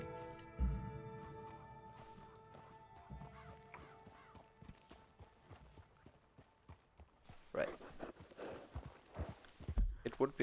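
Horse hooves clip-clop in the video game Red Dead Redemption 2 with a soft game soundtrack behind, the footfalls growing louder and busier toward the end.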